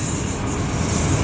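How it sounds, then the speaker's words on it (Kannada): The Seshadri Express rolls into Tekal station with a steady, loud broadband rumble of wheels on rails, heard up close in one short continuous stretch. "ಸೊ ನಮ್ಮ ಟ್ರೈನು ಕಂಪ್ಲೀಟಾಗಿ ಟೇಕಲ್ ರೀಚ್ ಆಗ್ತಾ ಇದೆ."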